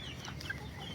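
An ulikba native rooster clucks in a short burst of soft, close calls over a low farmyard background, with no one talking.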